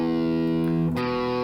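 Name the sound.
electric guitar riff with distortion tone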